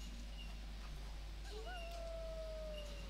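Dogs howl in Heroes of Might and Magic 5, a rising then long sliding tone over steady game background noise, heard alone without talk.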